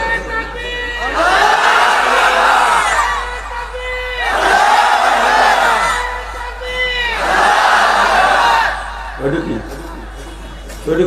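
Large crowd at a Bengali Islamic sermon shouting the takbir in three loud, unified waves of voices, each swelling and falling, with a brief pause between bursts and a voice speaking near the end.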